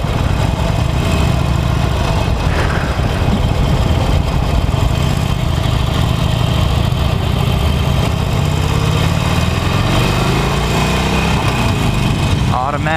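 A 2018 Harley-Davidson Forty-Eight Special motorcycle engine under way, a loud steady low rumble with wind noise, shifting in pitch as the bike rides along.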